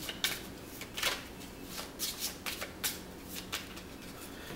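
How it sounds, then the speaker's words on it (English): Cards are riffled and shuffled repeatedly in quick, crisp bursts, close and fairly quiet, with no one speaking. "take these cards, the discard pile, shuffle them."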